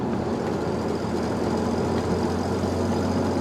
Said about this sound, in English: I love this motor, it's so quiet.